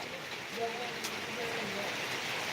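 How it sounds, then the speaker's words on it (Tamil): Heavy rain pours steadily at the Tirukkoilur bus stand, a continuous dense hiss with faint background voices mixed in. "திருக்கோயில் சரௌண்டிங் எல்லாமே நல்ல மழை பெஞ்சிட்ருக்கு"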